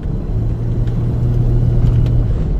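A car on the move gives a loud, steady low engine and road rumble from inside the cabin, continuous with no voices.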